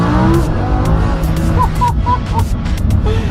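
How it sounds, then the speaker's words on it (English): A Lamborghini Huracan engine revs hard under acceleration, then a series of quick downshift blips rise and fall in succession, loud and close, with a brief voice under the roar. "Those downshifts and the steering response, oh my god, and the acceleration."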